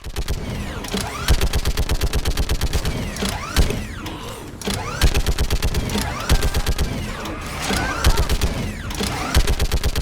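Rapid bursts of automatic gunfire and sharp shots rattle through a Mass Effect 3 video game battle, loud and nearly continuous, with dense repeated volleys and brief lulls.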